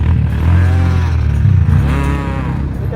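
A jeep engine at the Thal desert rally revs hard close by, a rough, throaty roar rising and falling twice, loud and nearly alone.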